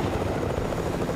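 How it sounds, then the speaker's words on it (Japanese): A helicopter in the Fortnite video game gives off a steady, close rotor-and-engine drone that holds level for the whole moment, with no talk over it. "あ、ヘリがいる。"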